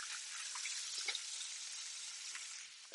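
Pork sears in a hot pan with a soft, steady sizzle and a few faint crackles, then a sharp clink of a utensil right at the end; no talking.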